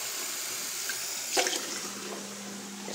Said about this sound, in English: get about an inch of water in the bottom.